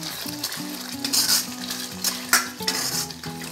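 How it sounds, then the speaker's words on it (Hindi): Fried bottle gourd is stirred into a masala in a pan, its sizzle broken by repeated scraping and clinking strokes of a spoon against the metal, close and fairly loud over soft background music. "इसे 1 मिनट तक ऐसे ही चलाते हुए मसाले में भून लेंगे"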